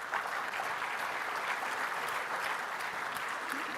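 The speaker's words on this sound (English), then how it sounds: "And if you all want to clap, go for it." Conference audience applauding, a dense, even wash of many hands clapping at a distance, fairly soft and steady throughout with no talk over it.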